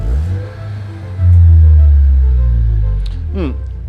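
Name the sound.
Maserati Levante Hybrid engine revving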